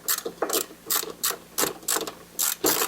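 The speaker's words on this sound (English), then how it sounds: "Grab a 10 millimeter deep well socket." A ratchet fitted with a 10 mm deep well socket loosens a battery terminal on a 2019 Honda Passport, clicking in a steady rhythm of short, close, metallic bursts, about seven strokes.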